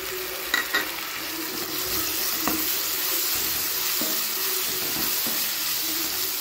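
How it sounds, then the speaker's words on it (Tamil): Chopped tomato frying in a pan for chicken chukka, an even close sizzle running throughout with several sharp clinks and scrapes of a spoon stirring, no talking. "இப்போ தக்காளி வதக்கி விட்டுக்கலாங்க."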